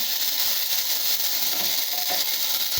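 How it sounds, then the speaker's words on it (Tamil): Ginger garlic paste sautéing in hot oil for a Coimbatore-style kovakkai gravy makes a steady, loud hissing sizzle throughout, with a brief faint clink near the end. "அதை போட்டு நல்லா இப்படி வதக்கி விடலாங்க"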